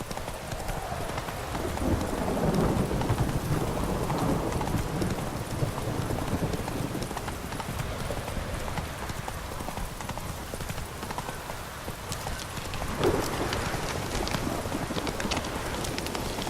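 Hooves of Roach, the horse in The Witcher 3: Hearts of Stone, clip-clop in a fast, steady gallop that runs throughout, close and constant, with a brief voice near the start.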